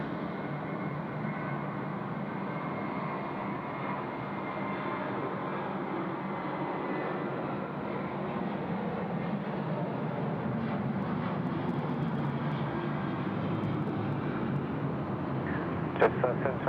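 A Qantas airliner takes off from runway 34 left at Sydney Airport, a steady broad roar of jet engines rising slightly toward the end, heard from a distance with a few faint clicks.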